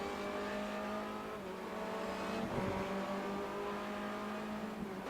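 A race car laps Silverstone in the iRacing sim, its engine a continuous, moderately faint whine with a brief pitch swoop midway as it passes, without any speech.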